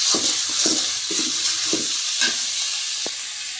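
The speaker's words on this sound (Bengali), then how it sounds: "তরকারি রান্না করার জন্য আমি এই যে মশলা কষাই নিচ্ছি" Spices frying in a pan for a curry, a constant loud sizzle broken by several scraping stirs of a spatula against the pan, close, with no voices.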